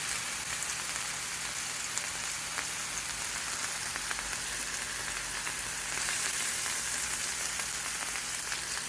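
Ground turkey meat fries in a pan with a steady, dense sizzle and crackle, close and even throughout, with no talking.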